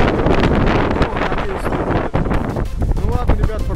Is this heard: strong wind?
yes